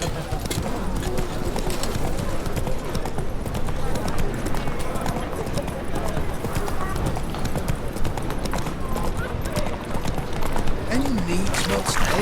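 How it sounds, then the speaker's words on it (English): A horse gallops in The Witcher 3 with a continuous, close clip-clop of hooves alongside outdoor game ambience, and a voice speaks over it. "Not so fast, Roach"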